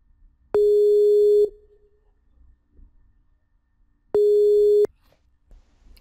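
A telephone line rings out as a call is placed, giving two steady electronic tone bursts of about a second each, a few seconds apart, with near silence between them.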